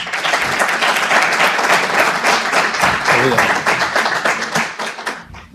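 An audience at a Valladolid symposium applauds for speaker Stefan Dumas, with dense, sustained clapping from a crowd that fills the room loudly and steadily before tapering off at the end.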